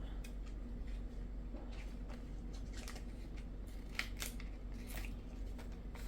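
Scissors snip through cellophane or ribbon while a candy lei is being made, a quick series of close, crisp cuts over a steady low hum and no talking.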